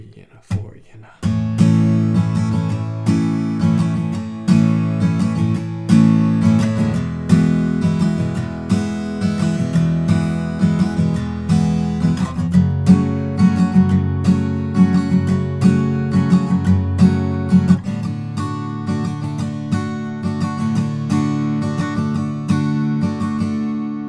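Acoustic guitar strumming the main chord progression of a song in a steady four-beat pattern, full and close, ringing chords with regular strokes and no talking.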